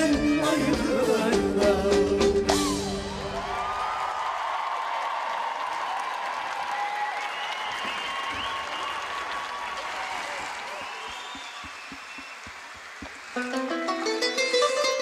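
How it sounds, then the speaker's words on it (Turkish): At a concert, music ends and the audience breaks into sustained applause, a broad crowd wash lasting several seconds before the music starts again. "Bu kadar mı alkışlıyorsunuz?"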